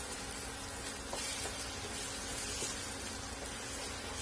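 Cracked eggs hit a hot oiled pan for egg bhurji, giving a steady, fairly faint crackling sizzle that holds evenly for a few seconds with no voice over it.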